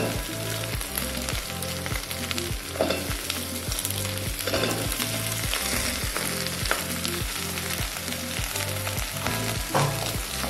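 Green chilli pieces and onions sizzle in oil for chicken pulao and are stirred in quick rhythmic strokes, with a loud, steady frying hiss close by.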